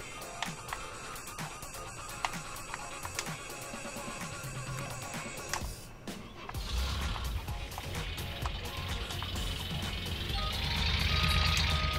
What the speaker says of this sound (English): Pretty cool noises actually. Blatantly a really old Caterpillar.